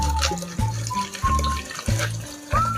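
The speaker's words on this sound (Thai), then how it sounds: "ใส่โซดาใส่หมดเลยไหมลูก" Soda water is poured into a red soda and lime drink, a loud close splashing stream that fizzes and gurgles in several uneven surges.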